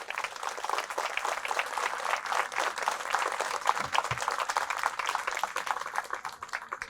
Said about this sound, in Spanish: Fuertes aplausos a nuestra Madre.